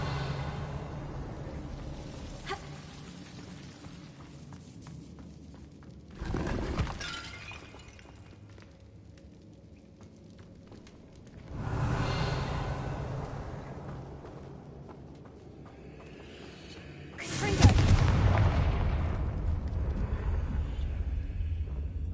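Three heavy blasting-curse explosions from the Hogwarts Legacy video game, each a loud crackling burst that decays into a rumbling tail, spaced several seconds apart over a low game background.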